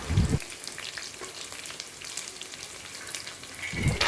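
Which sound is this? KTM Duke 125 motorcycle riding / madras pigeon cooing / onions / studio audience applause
onions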